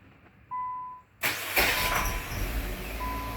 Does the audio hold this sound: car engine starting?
yes